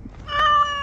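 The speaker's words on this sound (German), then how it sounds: "Wie ich sehe, begleitet euch euer Kater noch immer." A cat meows once in the video game Dragon Age Awakening, giving a clear, sustained, fairly loud tonal call under a second long, heard up close with no voices.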